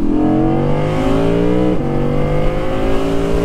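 An Audi R8 V10 Spyder revving loudly and close on a tree-lined road, its engine note climbing steadily in pitch, dropping sharply at a shift, then pulling up again.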